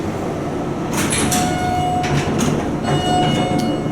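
A Schindler traction elevator hums and rumbles steadily as it travels fast, with a faint high whine and a few soft rattling clunks, heard from close by.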